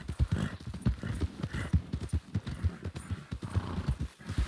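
Horse hooves clip-clop in steady, close rhythm in a Red Dead roleplay game, a tired mount trotting toward town, with occasional whinnies and faint background chatter.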